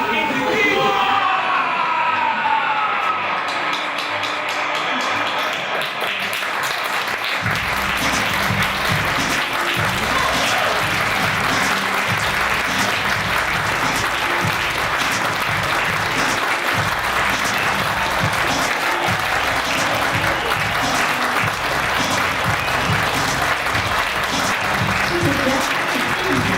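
Large audience applauding a team at a French-language live show, loud sustained clapping with cheers and whoops throughout, after a brief stretch of chanting voices at the start.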